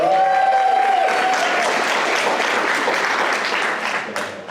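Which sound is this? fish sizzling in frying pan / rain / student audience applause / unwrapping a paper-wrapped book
student audience applause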